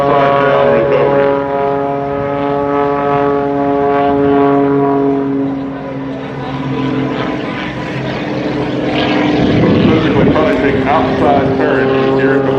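A small MX-2 aerobatic propeller airplane drones steadily overhead at an air show, trailing smoke, its engine pitch rising and falling as it maneuvers, loud and continuous throughout.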